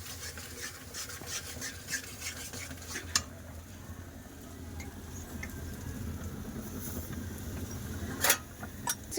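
A tomato, salt and spice paste is stir-fried in a pan over a low flame, with a soft sizzle under frequent scraping and clinks of a spatula against the metal, loudest near the end.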